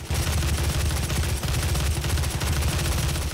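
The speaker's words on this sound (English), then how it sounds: "I love this machine gun." Machine gun fire in the video game Doom, a loud, continuous rapid rattle of heavy automatic shots with a steady rhythm, filling the whole stretch without talk.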